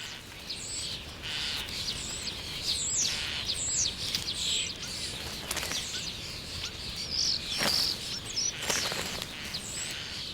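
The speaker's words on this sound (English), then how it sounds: "Among them, and especially keen, is the starling." Starlings call and chirp repeatedly while feeding on cherries in summer, with short tweets and whistles scattered over the whole stretch and some wing flutters among them.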